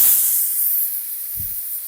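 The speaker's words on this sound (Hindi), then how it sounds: "यहाँ पे कुकर का भी टाइम हो चुका है तो इसको जो है ना प्रेशर इसका निकाल देते हैं।" A kitchen pressure cooker releases its steam in a loud, continuous hiss that starts strong and gradually tapers, with a faint low thump partway through.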